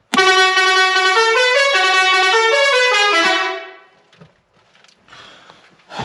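A Basuri air horn fitted on a tractor sounds a loud, close melodic run of rapid rising and falling tones for about three seconds, then cuts off into near silence with faint handling noises.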